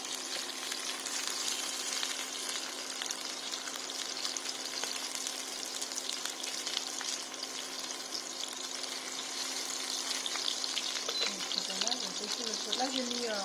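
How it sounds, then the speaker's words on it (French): Sardines with ginger frying in a pan, a continuous dense sizzle with fine crackles throughout, close by, with a steady low hum underneath and no talk over it. "on laisse la sardine pour le griller un peu"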